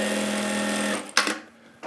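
A VMA V-A2S industrial sewing machine runs at a steady 2,500 stitches per minute, giving a loud, continuous whir for about a second. It then stops, followed by a short clack and a quieter mechanical tail.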